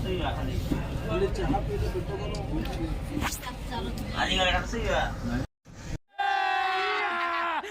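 Train running, heard from inside a carriage: a steady loud rumble and clatter with horn-like tonal blasts, briefly cut out near the end, and people talking throughout.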